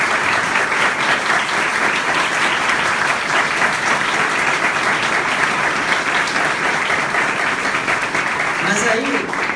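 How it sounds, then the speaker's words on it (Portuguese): An audience at a women's convention lecture gives sustained, loud applause, a dense, even wash of clapping that runs the whole time with no break. "Obrigado aí pelos aplausos."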